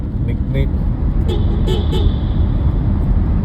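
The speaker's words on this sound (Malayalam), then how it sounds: "ഈ ടണലിനുള്ളിൽ കയറിയാൽ നമുക്ക് എത്ര വേണമെങ്കിലും ഹോൺ അടിക്കാം" Car horns toot repeatedly inside Wellington's Mount Victoria road tunnel, several short honks echoing over a constant roar of traffic, with a voice talking over the noise.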